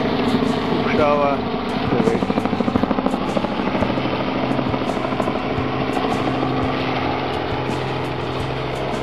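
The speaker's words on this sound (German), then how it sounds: "Hubschrauber" A helicopter's rotor thumps rapidly and steadily, loud and close, with a brief whine near the start.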